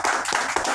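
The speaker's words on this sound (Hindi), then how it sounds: "ताली बजाइए अपने लिए।" An indoor audience at a business seminar claps together in a dense, steady burst of applause, loud and close, lasting under a second.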